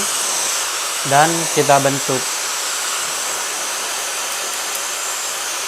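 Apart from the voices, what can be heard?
hair dryer drying and styling hair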